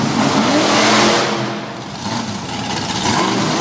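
Backdraft, a monster truck driven by Ty Cornelius, launches on a dirt track at an arena show in Harrisburg, Pennsylvania, its engine roaring loud and close, dipping briefly before revving hard again.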